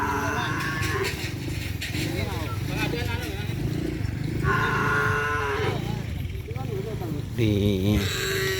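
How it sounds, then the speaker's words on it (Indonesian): Cattle mooing repeatedly, several long drawn-out lowing calls close by, with other farm animal sounds and some background noise. "ada sapi yang mau dilepas."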